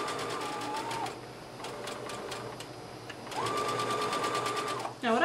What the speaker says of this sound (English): in my needle down position, I'm going to straight stitch.